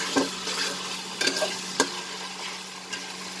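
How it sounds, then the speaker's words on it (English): Spices and onion sauteing over a lowered flame in a pan for a potato pulao, a steady soft sizzle with a few sharp scraping clicks of a spoon stirring, close and alone. "saute it along with the onion for a minute so that the raw smell disappears"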